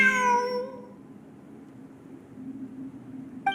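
A cat in the video game Genshin Impact lets out a single clear meow at the start, then only a quiet low hum remains, with a faint sharp blip at the end.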